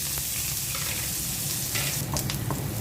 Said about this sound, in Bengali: মাছ ভাজা তেলের মধ্যে আমি পেঁয়াজ দিয়ে দিচ্ছি।